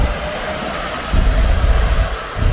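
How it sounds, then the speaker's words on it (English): A TUI airliner landing at Birmingham Airport, its engines a loud, steady roar that swells in the low end partway through, heard alone without talk. "And then we've got another TUI that's just come down."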